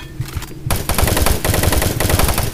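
Loud rapid automatic gunfire from the video game Doom 3 erupts after a short quieter lead-in and continues as a dense, steady burst of shots.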